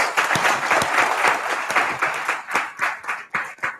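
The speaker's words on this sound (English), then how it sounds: "A round of applause for our panelists." Audience applause for the panelists at the close of a leadership panel discussion, a dense, steady burst of clapping from a seated crowd with some louder individual claps standing out near the end.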